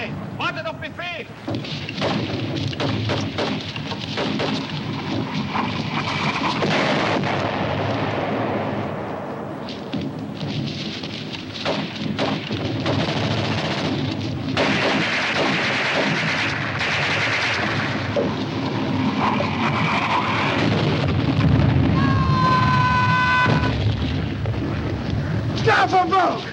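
Battlefield gunfire with rapid bursts and heavy booming blasts, loud and continuous, mixed with shouted voices and a dense roar of combat noise throughout.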